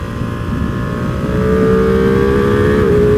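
A 2021 Ducati Panigale V2 sport motorcycle with stock exhaust revs steadily higher, its pitch climbing and holding loud and close, a smooth continuous whine over a rumbling drone.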